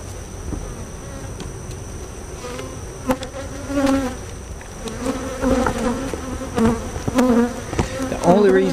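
Honeybees buzz steadily around an open hive during an inspection, a dense close drone that swells at times, with a few sharper flybys passing near.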